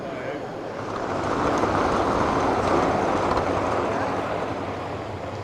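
Model diesel locomotives run on a layout at a model show in Suffolk, giving a steady, close rumble and whirring roar that swells in the middle and then eases slightly.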